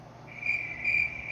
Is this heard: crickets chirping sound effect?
yes